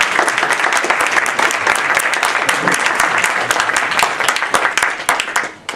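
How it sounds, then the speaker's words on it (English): An audience applauds loudly and steadily at a close, dense clapping that keeps going for about six seconds before trailing off slightly at the end. "Applaud them."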